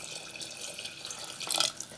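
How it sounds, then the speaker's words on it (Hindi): Water, about 250 ml, poured into a cooking pot of fried chicken for bhindi gosht, a soft continuous splashing trickle that swells briefly near the end, fairly quiet, no talking. "और अब हम इसमें डालेंगे पानी"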